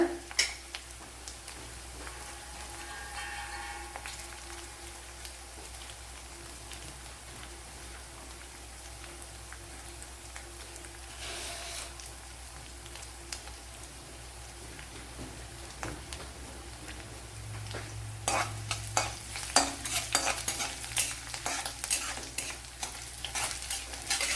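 Chopped green chillies and a sliced dried red chilli hit hot oil with a continuous crackling sizzle, scattered spattering pops thickening toward the end, heard close with no talking.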